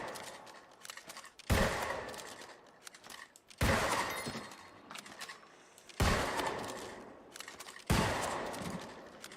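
Musket shots from the video game New World, four loud sharp blasts spaced roughly two seconds apart, each with a trailing decay, plus smaller impact and combat sounds between them and no talk.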